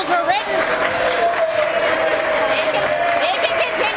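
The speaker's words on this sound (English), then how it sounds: "They can continue clapping for the schools that they didn't build." Members in a legislative chamber clap in a loose, sustained patter of applause mixed with crowd murmur, while a voice talks continuously over it.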